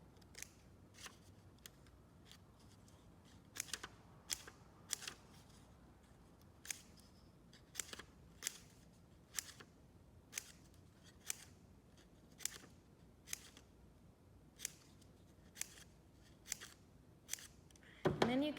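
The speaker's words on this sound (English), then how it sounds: "So you're just gonna cut it with little snips, and you can cut little triangles out of it." Scissors snip paper into a grass shape for a craft, cutting little triangles: a steady run of about twenty crisp, close snips at irregular intervals over a quiet room, with a brief rustle at the end.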